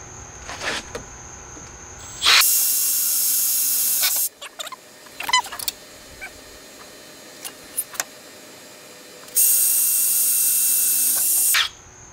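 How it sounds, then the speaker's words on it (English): A power drill whirs at high speed drilling pilot holes for self-tapping screws on a Toyota Tacoma shock installation, in two steady bursts of about two seconds each, with scattered clicks and taps of handling in between. "I'm going to drill some pilot holes where I just marked"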